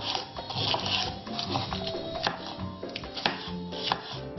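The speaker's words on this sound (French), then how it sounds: "Je vais les découper en lanières pas trop fines car elles se rétractent à la cuisson" A kitchen knife slices chili peppers into strips on a cutting board, giving a quick, steady run of close, crisp chops and taps with no one talking.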